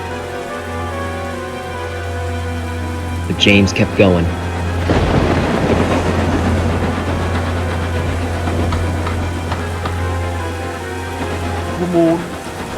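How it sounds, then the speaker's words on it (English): Rain hisses steadily in a Thomas & Friends episode while a sharp crack of thunder breaks out and rolls on, with a voice briefly speaking over the storm. "The storm was strong and fierce."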